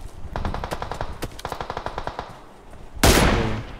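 Rapid bursts of automatic gunfire crackle in quick rhythmic volleys, followed after a short lull by a single loud blast.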